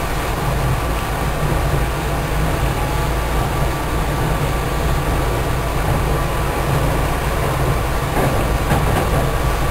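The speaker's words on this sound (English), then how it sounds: "it was time to hop back on the train and make our way back to Philadelphia." A passenger train rides from Atlantic City to Philadelphia, giving a constant loud rumble of wheels and carriage noise with faint rhythmic clatter, heard from inside the car with no talk.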